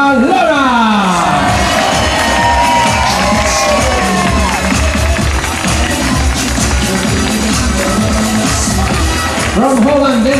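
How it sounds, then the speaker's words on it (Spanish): A large crowd cheers, whoops and applauds loudly and continuously for a singer performing live at a tribute show, with shouting voices throughout. "por la gente que da fuerte aplauso para Laura"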